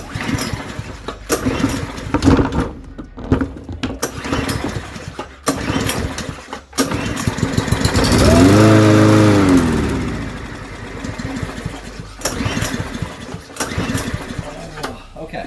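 A cheap secondhand push lawn mower engine with a dirty carburetor sputters to life for a few seconds with a rising, harmonic engine tone, then cuts out quickly, amid louder background noise and talk.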